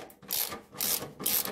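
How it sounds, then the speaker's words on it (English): A ratchet tightens a bolt on a lithium-ion RV battery storage system, giving three short rasping clicking strokes at close range, fairly quiet, with no talking. "So I'm tightening up the bolt here."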